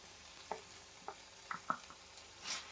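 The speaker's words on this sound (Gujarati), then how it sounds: "હવે આપણે આમાં જે દહીંમાં મસાલા નાખી અને તૈયાર કરે છે એ મસાલા સાથેની દહીં આપણે" Spiced yogurt sizzling in ghee in a pan of green turmeric curry, a soft, faint sizzle with a few light clinks of stirring scattered throughout.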